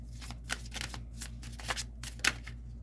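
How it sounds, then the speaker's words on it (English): Oversized tarot cards being shuffled by hand, a series of soft, irregular riffling and sliding bursts close up with brief pauses between them, no voices. "Bear with me while I'm trying to shuffle"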